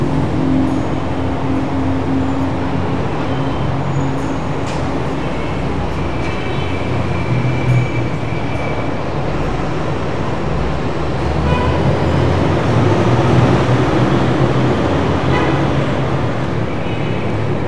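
Traffic and rail rumble fill a busy roadside beneath an elevated metro line near a bus stop, a steady loud wash of engines and rolling wheels with occasional squeals, no clear speech.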